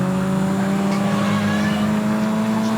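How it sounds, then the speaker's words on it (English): Caterham race cars at speed on the Brands Hatch circuit, a steady loud engine drone at close range with a faint tyre squeal, no talk over it. "Here comes the leader. He's had to go wide there to lap the number 23 car of Chris Longwood."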